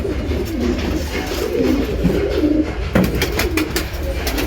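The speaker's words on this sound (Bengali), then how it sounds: "মাদি পায়রা নড়ের মতো ডাকছে।" Pigeons in a breeding loft coo again and again in soft, throaty, rolling calls close by, over a low background rumble, with a few sharper clicks near the end and no voices.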